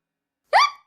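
A cartoon character gives a single short, voiced hiccup, a quick upward-sliding squeak that stands alone after silence.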